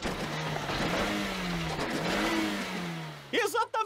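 A cartoon car engine drones steadily, its pitch rising and falling as it revs, with a short sharp burst near the end, heard close and loud.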